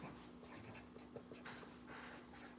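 Pencil or marker writing a math statement about ordering pieces of pizza, a soft continuous scratching of strokes for a few seconds over a steady background hum, with no talking.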